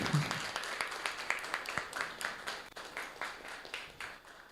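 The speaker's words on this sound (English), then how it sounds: "So let's the clap be resounding." Audience applause for a standing ovation at an event, a steady crackle of many hands clapping at moderate distance, continuing evenly without talk and fading slightly toward the end.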